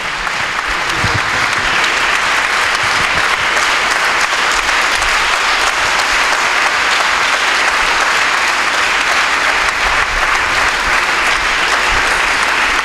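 Sustained, loud applause from an audience fills the room, welcoming a reverend speaker onto a Christian television program; the dense clapping stays steady throughout with no talk over it.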